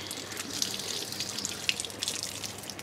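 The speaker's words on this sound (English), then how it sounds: "what I might do is I'll turn this tap on." Water running steadily from a garden tap near a groundwater pump and rainwater tank setup, a continuous close hiss with a few small splashes and drips, no talking.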